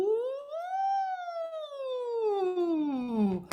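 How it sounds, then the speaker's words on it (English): A single voice hums a sustained 'woo' through a straw as a vocal warm-up, its pitch sliding up and then gliding slowly down over a few seconds like a siren, steady and close. "you would make this sound and with a W and an oo"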